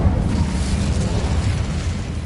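A fire spell blast, Incendio, cast in Hogwarts Legacy: a steady, roaring low rumble of flame that holds at constant loudness without a sharp attack.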